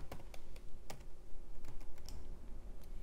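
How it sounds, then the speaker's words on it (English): Keystrokes on a computer keyboard while designing a T-shirt in Canva, a quick irregular run of close, crisp clicks with several louder taps, no talking. "I'm going to hit T on my keyboard."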